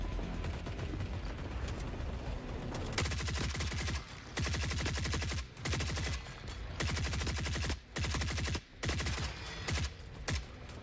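Heavy automatic gunfire in Forever Winter rattles in dense, sustained bursts broken by short pauses, loud and close, with no voices.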